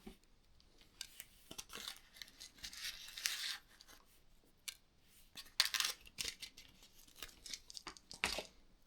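Close, quiet snips of scissors cutting fishing braid short while rigging for barbel on a river, sharp little clicks and rustles scattered in irregular bursts with no talk.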